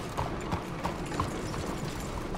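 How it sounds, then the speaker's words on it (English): Horse hooves clip-clop at a steady walking rhythm in Red Dead Redemption 2, a continuous run of close, even footfalls over a dense background of outdoor ambience. "We have to hitch our horse somewhere."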